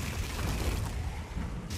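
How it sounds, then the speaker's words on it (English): Dragon fire column blasting through frozen lake ice in a battle scene: a dense, sustained roaring rumble with heavy low-end booming, loud and continuous throughout without a clear break. "The fire column slicing the ice, we wanted to make sure that it looked like a cutting torch, and it's exploding the ice"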